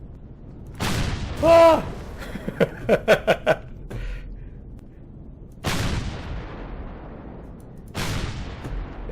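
Incoming gunfire in the space game Empyrion lands as three heavy, booming blasts spread apart, each fading out, while a voice cries out and laughs in short bursts between them.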